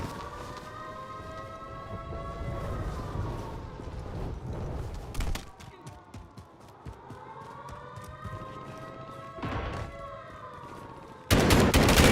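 Shotgun blasts in the Warzone video game, sharp loud shots spaced a few seconds apart over a steady wailing siren-like drone, with a harsh louder burst at the end.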